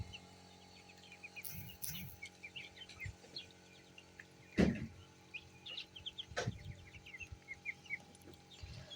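Faint, scattered high peeping of ducklings in light rain in a quiet village outdoor setting, broken by a couple of sharp louder knocks.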